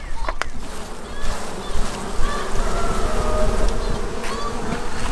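Honey bees buzz loudly and continuously as they are shaken from a hive frame during beekeeping, a dense close swarm drone with a few sharp knocks near the start.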